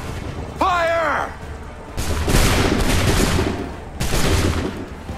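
Musket volleys in an Assassin's Creed III battle scene at Lexington: a shouted command, then loud booming, crackling gunfire in two rolling bursts that fill the scene.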